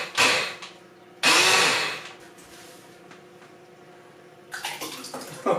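A leaking blender runs with orange juice inside: two short, loud whirring bursts followed by a low hum, then a rougher, churning run at the end.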